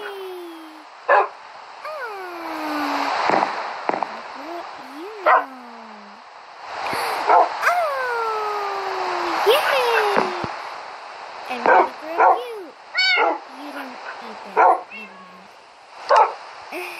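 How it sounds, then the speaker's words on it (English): Dogs bark, yip and whimper at feeding time, sharp close barks repeating in irregular bursts between rising whiny yelps, with people's voices mixed in. "I'm gonna feed my dogs and grow them up to be big, big ones"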